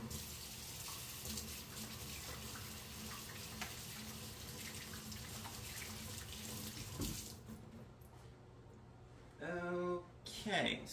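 A kitchen water tap running steadily for a quick rinse while making biscuits, a constant close splashing hiss that stops near the end, followed by brief clattering sounds.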